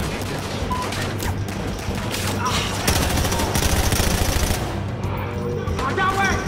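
Sustained gunfire in a Battlefield Hardline shootout, dense automatic bursts and rapid shots rattling loudly and continuously, with occasional voices mixed into the combat noise.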